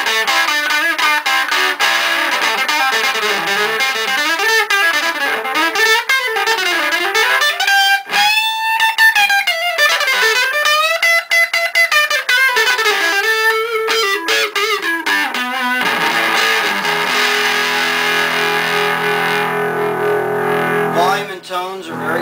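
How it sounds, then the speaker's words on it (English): A restored 1984 Gibson Les Paul Goldtop electric guitar plays through a small Gorilla GG20 amp with a light crunch, bending notes and melodic lines sounding loud and continuous for over twenty seconds. "Put a little crunch on it, just so you get a little flavor of what that sounds like."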